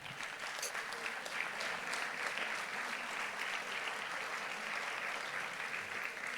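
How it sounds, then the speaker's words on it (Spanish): An audience at a church plenary session claps loudly and evenly, a dense, sustained round of applause that fills the whole stretch without letting up. "dele pues un aplauso, Señor"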